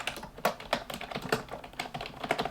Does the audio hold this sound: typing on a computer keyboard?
yes